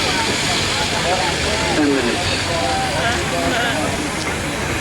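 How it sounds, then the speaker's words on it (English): Steam engines at a steam rally give off a loud, steady broadband hiss and rumble that fills the whole clip, with faint machinery tones drifting through and a voice speaking briefly over it. "So, steam in all its glory."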